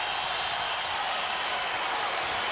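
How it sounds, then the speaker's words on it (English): Arena crowd noise at a 2001 NBA game between the Indiana Pacers and Sacramento Kings, a steady broad roar of cheering fans during a Kings run, sustained and even throughout with no words. "Crowd into it now"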